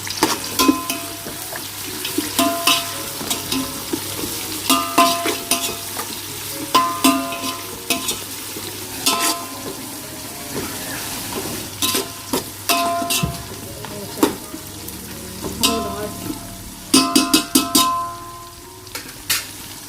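Onions sautéing in a pan for a home-style meat feast crackle and sizzle steadily, broken by repeated sharp scrapes and clanks of a spoon stirring against the pan, with no voices.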